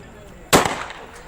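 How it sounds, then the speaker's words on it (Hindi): A single sharp gunshot as a young man fires into the air outdoors, one loud crack with a short decaying echo over faint background noise. "देखिए कैसे ये युवक शान से हवा में फायरिंग कर रहा है।"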